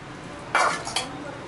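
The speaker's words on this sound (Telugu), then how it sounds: "సో మనం దీన్ని మంచిగా మిక్స్ చేసుకుందాం." Cheese ball ingredients, with salt among them, are stirred in a bowl, giving two short bursts of scraping and clinking against the dish over a quiet background.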